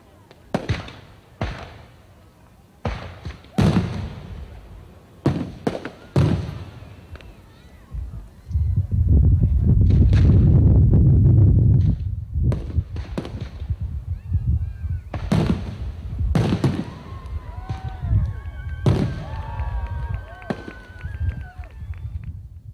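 Fireworks burst over Table Rock Lake at night in a string of sharp booms and crackles, some near and loud, with a dense rumbling volley in the middle and scattered pops afterward.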